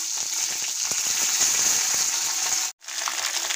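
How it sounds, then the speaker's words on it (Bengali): Cut flat beans frying in hot soybean oil make a steady, close, bright sizzle with faint crackles, broken by a sudden brief silence before the hiss resumes. "এখন আমি দিয়ে দেবো কেটে রাখা সিমগুলো অল্প ফ্রাই করে নিতে হবে।"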